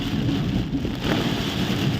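Heavy rainstorm drumming steadily on a car while driving, a dense, continuous roar of rain with low rumbling, loud and close throughout with no talk.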